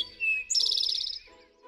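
An eastern towhee calls in a Kingston woodland, a bright rising whistle followed by a fast, loud trill of repeated notes, with soft background noise underneath.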